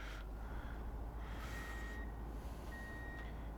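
In the video game Truck and Logistics Simulator, a reversing truck gives faint, evenly spaced electronic beeps over a low engine rumble.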